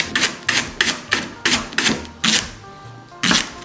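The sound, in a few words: knife slicing a leek into rounds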